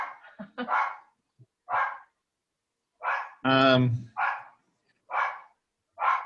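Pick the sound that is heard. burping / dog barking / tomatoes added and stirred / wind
dog barking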